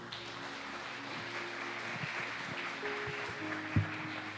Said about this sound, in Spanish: Denle la gloria al Señor, dándole un aplauso.